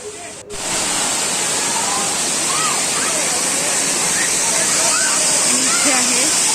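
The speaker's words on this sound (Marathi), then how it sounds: "सो आत्ता आम्ही आलो आहे वॉटरफॉलला. तिरुप्पू वॉटरफॉल असं नाव आहे." Thiraparappu waterfall in Kanyakumari roars as a loud, steady rush of falling water close at hand. Faint voices and scattered chatter from people nearby sit under the roar.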